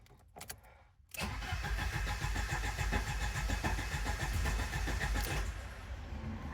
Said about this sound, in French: Ici, on entend qu'elle veut prendre, mais elle ne prend pas.